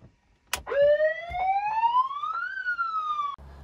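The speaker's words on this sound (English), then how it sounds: "he needed to outfit his car with a light and sirens" A police siren fitted to a Mad Max Interceptor replica car sounds after a sharp click, a single loud wail sweeping steadily upward, then dipping slightly before cutting off abruptly.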